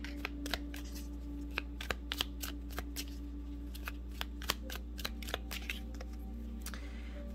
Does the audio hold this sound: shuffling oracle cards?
yes